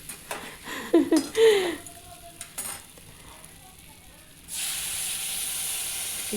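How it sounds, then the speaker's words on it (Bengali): Rinse water from a mixer bowl with poppy-seed residue is poured into a hot kadai of okra. A few clanks and stirring scrapes come first, then a sudden loud, sustained sizzling hiss takes over once the water hits the pan. "এই যে মিক্সি ধুয়ে বাটিটা জলটাও দিয়ে নিচ্ছি"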